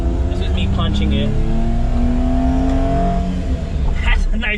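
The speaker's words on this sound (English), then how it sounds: "This is me punching it." Engine of a Daihatsu Midget II revving hard under acceleration from the driver's seat, a loud, steady buzzing drone with rising tonal pitch, brief higher whines near the start and end.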